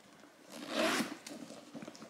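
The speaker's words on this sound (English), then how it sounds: "I could force it to zipper if I needed it to" A zipper is drawn shut on a Marc Jacobs Traveler Tote bag, one steady close rasping pull that swells in the middle and then trails off with a few small ticks. No voices.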